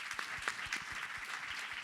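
Audience at a museum symposium claps, individual hand claps distinct and fairly distant in a steady, moderate ovation.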